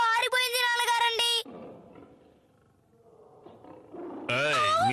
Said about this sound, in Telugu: పులులు అరుస్తున్నాయి, జాగ్రత్త.